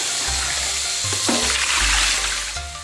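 Shimeji-type mushrooms being rinsed clean under a running kitchen tap, a steady close splash of flowing water with shifting pitch as the mushrooms move under the stream, no voices.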